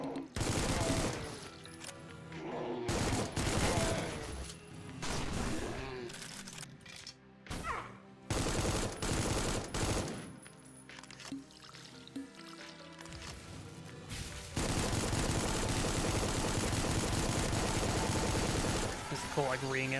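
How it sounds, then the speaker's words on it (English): Rapid gunfire from a double assault rifle in the video game Supplice rattles in long bursts through most of the stretch, loud and dense, with a short lull in the middle and a continuous barrage toward the end. "The double assault rifle. Way better once you have 2 of these. Effectively double your rate of fire."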